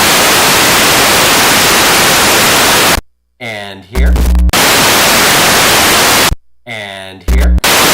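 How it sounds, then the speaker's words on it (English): A modular synthesizer noise source blasts loud, dense white noise in two long stretches, each cut by a short gap where a voice speaks briefly. "we can listen to the noise too while we're at it for a second"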